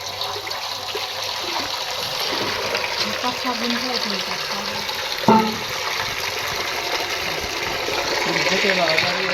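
Water runs from a tap in a village home, a steady close rushing gush that continues without a break, with a brief knock partway through and faint voices at times.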